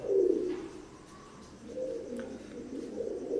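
Imported Teddy pigeons of the KTM, Oman bloodline coo close by in two soft, low, throaty phrases with a brief gap between them. There is no talk.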